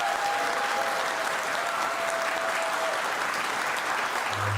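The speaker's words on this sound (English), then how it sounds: "Let's give our new fire chief a big round of applause." A room gives a steady round of applause for a new fire chief, dense continuous clapping at an even level from start to finish with no voices over it.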